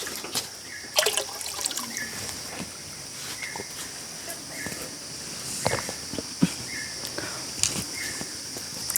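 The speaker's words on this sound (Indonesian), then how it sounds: "ini yang ketiga, sumber mata airnya atau sendangnya" Spring water trickles steadily from a sendang, a sacred spring at a shrine and grave pilgrimage site in Rejenu, Kudus, with a continuous watery hiss, scattered splashes and occasional footsteps nearby.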